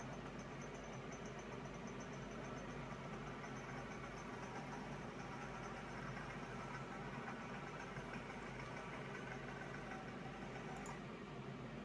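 A Tomos moped engine idles steadily nearby, a low even rumble with a slight vibrating rattle, no voices.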